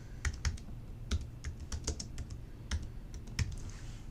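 Keys clack on a computer keyboard during CAD drafting, a quiet close-up run of irregular taps with short gaps between bursts against a low background hum.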